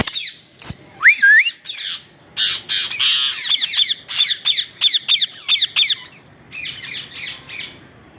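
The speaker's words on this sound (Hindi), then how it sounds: "फीमेल ना पूरी मैटिंग कॉल पे है" A female Indian ringneck parrot calls repeatedly at close range, giving loud, harsh squawks in quick bursts with a rising whistle near the start, then long runs of rapid, chattering squawks that carry on through most of the clip with short gaps.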